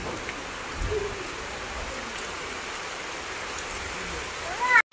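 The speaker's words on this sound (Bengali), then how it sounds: "কি জোরে বৃষ্টি চলে এসেছে।" Heavy rain pours down steadily in a broad, even rush with no break.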